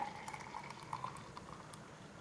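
Frothy cold coffee pours into a glass, a soft bubbling liquid trickle with faint splashes, quiet and steady for a couple of seconds.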